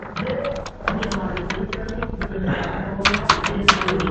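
Python code being typed on a computer keyboard, a steady run of close, quick key clicks that turns into a denser, louder burst toward the end, over a continuous background of someone talking.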